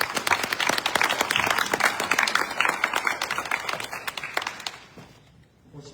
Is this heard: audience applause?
yes